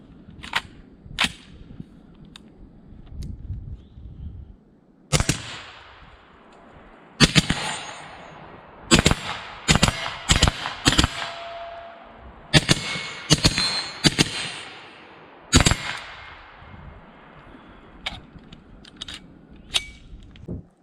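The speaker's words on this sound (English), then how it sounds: "We'll do some binary shooting because it's fun." Rifle fire from a short-barreled AR-15 with a binary trigger, Daniel Defense 11.5-inch upper, steel-case ammo: sharp shots outdoors, mostly in quick pairs with a few single reports, loud and close, with gaps between strings.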